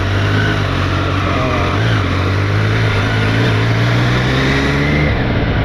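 A superbike being ridden, its engine droning loudly and continuously with steady pitch shifts under heavy wind rush, close and unbroken throughout.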